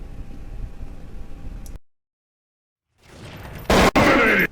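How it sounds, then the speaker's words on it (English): A short, loud burst of rifle fire in Counter-Strike: Source, cracking suddenly near the end after a hiss of ambient noise and a brief silent gap. "adjust my aim to the head, and fire in a short round burst"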